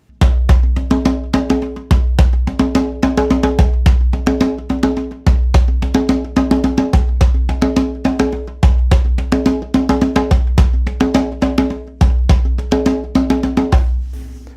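Traditional ceremonial hand drumming in a steady triplet-feel pattern, deep resonant strokes repeating in even groups with brief pauses between phrases, close and clear with no voices.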